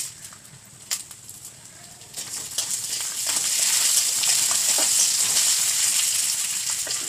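Lentils (dal) frying in oil with dried chilli and panch phoron, a steady hissing sizzle that grows louder partway through, with faint scraping and clinks near the start.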